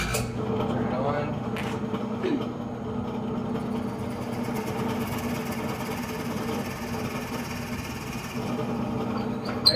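A drill press bores angled leg holes into a wooden stool seat, its motor giving a steady low hum and whine throughout, with a brief higher sound as the bit engages.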